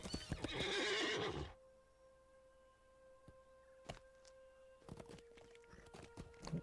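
A horse in the online game Lord of the Rings Online gives a loud whinny, followed by sparse hoof clops and small ticks against a quiet background.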